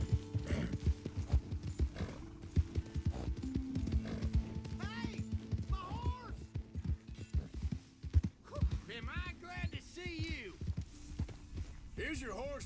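Horse hooves and neighing in the Red Dead Redemption 2 video game: steady clip-clop of hooves with a few snorts and whinnies rising over them, under game music and bits of in-game talk.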